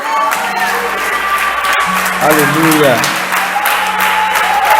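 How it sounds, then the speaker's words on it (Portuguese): A church congregation claps for Jesus in a dense, sustained round of applause while a voice calls out and sings over the top. "Você pode dar um lindo aplauso a Jesus."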